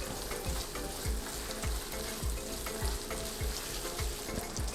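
Ginger, lime leaf and other aromatics sizzle and fry steadily in a hot pan for a spicy Indonesian Padang seafood stir-fry, with rhythmic stirring scrapes throughout and no talking.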